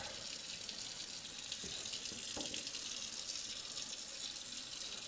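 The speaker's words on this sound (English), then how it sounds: "carrots a quick rinse. Quick rinse off." Kitchen tap runs in a steady, broad hiss of water while carrots are rinsed beneath it, with a few soft knocks and splashes from the vegetables partway through; close and continuous, no talking.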